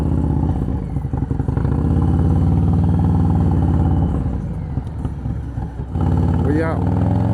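A Harley-Davidson motorcycle called Black Nasty rumbles on its first ride of 2026, a loud, steady low engine drone with slight rises in revs, while someone talks over it.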